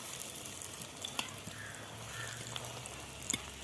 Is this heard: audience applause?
no